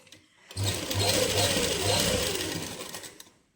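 Sewing machine stitching a winter suit, running in a steady continuous burst of about three seconds with a fast mechanical needle rhythm, close and fairly loud, with no talk.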